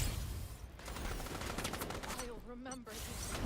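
Video game gunfire from a shooter, dense rapid bursts running nearly continuously at close range, with game voice lines and effects layered over the shots.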